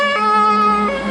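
A fire truck siren, a loud sustained harmonic wail heard close and alone for about a second.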